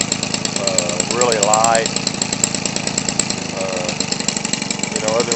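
Weed Eater Featherlite 15cc gas engine mounted on an RC vehicle, idling with a rapid loud putter close by while someone speaks over it.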